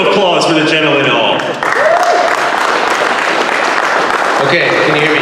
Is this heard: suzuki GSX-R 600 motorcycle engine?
no